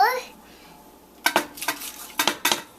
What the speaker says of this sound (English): Does it need a stir? Let's do it.